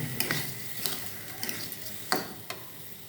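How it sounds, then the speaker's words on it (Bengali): Rice fried in hilsa fish broth for a potato-and-hilsa pulao sizzles softly while a spoon stirs it, giving irregular scraping clicks and knocks against the pot. "মাছের ঝোল দিয়ে আমরা চালগুনা ভেজে নেব"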